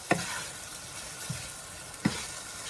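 A spoon stirs brown sugar in a pan for bacon jam, giving a few soft scrapes with a low sizzle underneath and long quiet stretches between the strokes.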